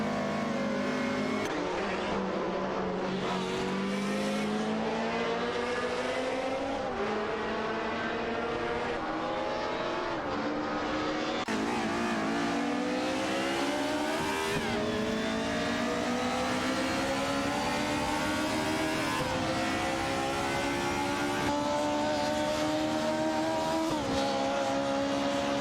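Race cars in a video game, a BMW M3 GTR Evo and an Opel Calibra DTM, engines roaring continuously at high revs with rising and falling pitch through gear changes, loud and sustained with occasional tire squeal.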